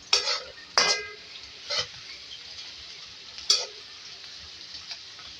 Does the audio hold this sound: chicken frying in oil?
yes